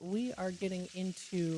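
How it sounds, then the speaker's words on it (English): Bacon frying in a pan gives off a steady hissing sizzle beneath a voice that talks the whole time. "that's the sound of bacon that's frying"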